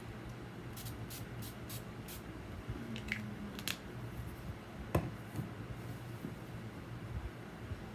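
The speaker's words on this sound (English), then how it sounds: "The only thing I hate about setting sprays is that they get on your lips" NYX matte finish setting spray hisses out in several quick, close bursts early on, each short and airy, followed by a few softer handling sounds in an otherwise quiet indoor room.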